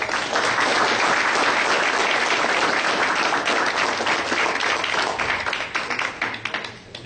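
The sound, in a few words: audience applause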